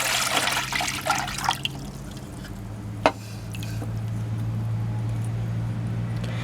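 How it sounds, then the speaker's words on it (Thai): Water pours into a pot with salt for boiling eggs, a short splashing trickle at first, then a single knock and a low, steady hum. "ใส่เกลือป่นลงไปนะคะ แล้วก็น้ำนะคะ"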